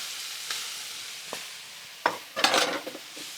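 Cabbage sizzles in a hot pan on high heat with a few scrapes and stirs, a steady frying hiss broken by brief clattering bursts, close and fairly loud with no talk.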